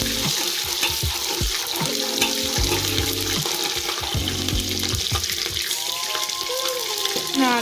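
Cumin seeds sizzle in hot oil for a tadka for Punjabi aloo matar, a steady crackling fry mixed with stirring and some running water from a tap, with clattering kitchen clatter and no talk.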